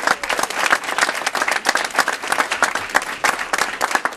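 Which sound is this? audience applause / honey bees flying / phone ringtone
audience applause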